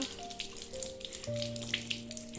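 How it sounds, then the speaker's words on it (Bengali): A young child washes their hands with hand wash under a running tap after coming home from school, a steady close wash of water with faint tonal hum beneath. "স্কুল থেকে এসেই হ্যান্ড ওয়াশ দিয়ে হাত ধুচ্ছে বাবাই"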